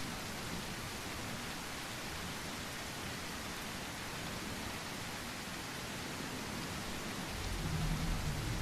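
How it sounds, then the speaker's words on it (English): Steady rain pouring down at night in the survival game The Isle, a continuous broadband hiss that holds even throughout, swelling slightly louder near the end. "It's extra dark at the moment because it's also raining."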